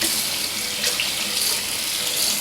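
A Manscaped nose and ear hair trimmer is rinsed under a running tap, giving a steady, close hiss of flowing water that splashes evenly throughout, with no speech.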